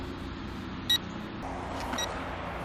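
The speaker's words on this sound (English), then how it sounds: "I get a beep from the transmitter that it's after I hit the record button." A XIANGYU Falcon folding FPV drone transmitter gives a short electronic beep, followed about a second later by a fainter second chirp, over a constant low hum.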